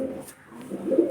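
A small, medium-sized pigeon coos close by, one soft, low, rounded call swelling toward the end over a faint background, with no voices.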